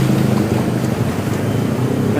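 Floodwater waves surge through a flooded Manila street during heavy rain, a steady, loud, continuous rushing wash of churning water with no talk over it.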